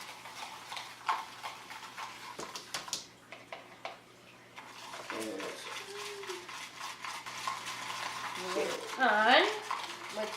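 A bath bomb mixture with oil being stirred with a stick in a container, giving steady close scraping and clicking that pauses briefly and then resumes, with faint squeaky sounds near the end.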